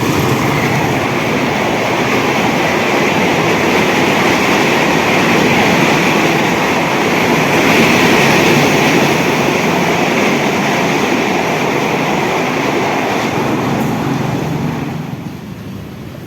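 A KA Jakarta passenger train heading from Surabaya Gubeng toward Pasar Senen rolls past close by on the Surabaya track, a loud steady roar of wheels and rails that holds throughout and eases slightly at the end.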